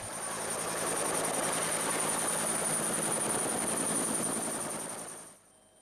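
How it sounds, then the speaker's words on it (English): A Puma Energy-sponsored chopper flies nearby, its steady rotor thrum and turbine whine holding loud and constant for about five seconds before cutting away to quiet. "Then it was off on the chopper, sponsored by Puma Energy"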